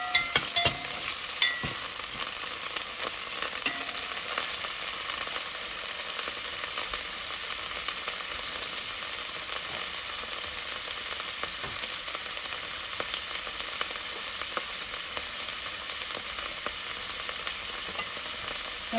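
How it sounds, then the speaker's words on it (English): Shrimp frying in hot oil, a steady crackling sizzle with spits and pops that fills the whole stretch, a few sharper clicks at the start, no voices. "the shrimp kind of wet with the oil, then splattering all over"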